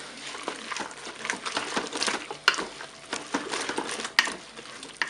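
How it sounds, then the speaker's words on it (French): Tomato paste stirred into cooked spaghetti and eggplant inside a Cookeo multicooker, a busy run of soft scraping and wet clicking with a few sharp utensil knocks against the pot, close and fairly steady. "On mélange."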